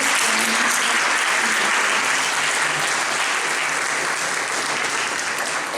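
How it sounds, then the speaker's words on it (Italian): Sustained audience applause fills a hall at the Premio Giorgione 2024 award ceremony, a steady loud wash of many hands clapping throughout with no break and no talk. "possiamo fargli un bel applauso per il grande lavoro che hanno"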